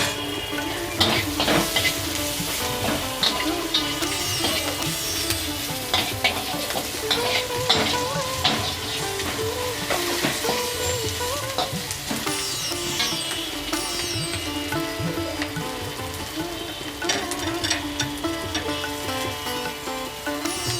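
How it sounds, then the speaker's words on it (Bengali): Onions with green chillies and prawns frying in oil with a pinch of salt, a dense steady sizzle broken by repeated scraping stirs of a spatula in the pan, no talking. "সামান্য একটু লবণ দিলাম তাড়াতাড়ি তাহলে পেঁয়াজটা ভাজা হয়ে যাবে"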